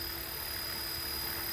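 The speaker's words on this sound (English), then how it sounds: "So we will be flying this helicopter from now on with no stability at all" A Blade Fusion 360 RC helicopter in flight with no stability assist, a steady unbroken whine of its motor and rotor holding at a constant moderate level throughout.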